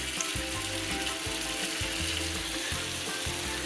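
Bourek sizzles steadily in hot oil, a continuous close crackle and hiss with faint clinks of a utensil underneath.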